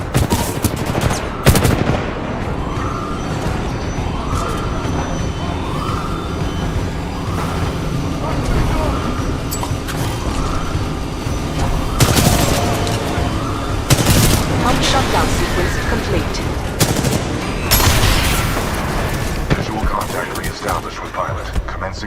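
Sustained game gunfire and explosions in the Titanfall 2 campaign, dense and loud, with sharp bursts and bangs throughout, a siren-like wavering tone in the background and occasional voices underneath.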